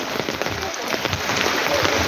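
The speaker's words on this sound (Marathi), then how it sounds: "रात्रीपासून पाऊस चालू आहे" Heavy flooding rain pours steadily in a village with a dense hiss and scattered drops pattering close by, a voice faintly audible underneath.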